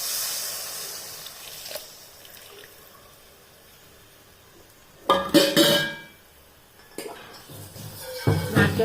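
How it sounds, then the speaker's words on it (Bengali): Coconut milk poured into a hot pan of oil for a bhetki fish preparation, bursting into loud hissing sizzles in several separate surges over a quieter steady simmer. "এইটা দিয়ে দেবো, নারকেল দুধটা।"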